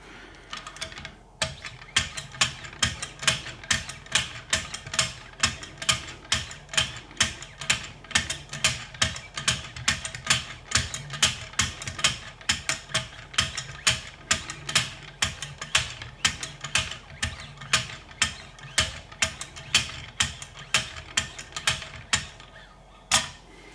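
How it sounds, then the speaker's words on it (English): A Kershaw Lucha knife is sharpened on a Wicked Edge guided sharpener, with rapid, regular scraping strokes clicking close by in a dense, even rhythm for over twenty seconds, with no talk. "that completes the entire sharpening on the wicked edge"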